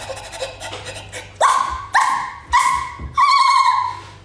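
A human voice imitates a dog, starting with whiny sounds and then giving four loud, close bark-like yelps in a halting rhythm.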